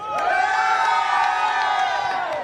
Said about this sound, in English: It is an energetic crowd